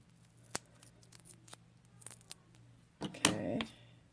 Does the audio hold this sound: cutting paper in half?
yes